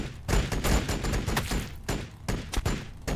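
Bursts of rapid gunfire in Warhammer 40000 Battlesector, loud and close, with sharp repeated shots forming uneven volleys and brief gaps between them.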